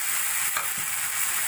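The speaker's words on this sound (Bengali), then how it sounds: "পেঁয়াজ টমেটো ক্যাপসিকাম 2-3 মিনিট মতো ভাজা ভাজা করে নিয়ে দিয়ে দেবো আমি আগে থেকে ভেজে রাখা ব্রোকলি" Onion, tomato, capsicum and broccoli stir-frying in a pan for chilli broccoli: a steady close sizzle with faint stirring scrapes, no voices.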